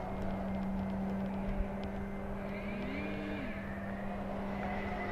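An FMS Voodoo P-51 RC model airplane flies a loop, its electric motor a steady whining drone with a pitch that rises and falls as it passes through the manoeuvre, heard at moderate distance without speech.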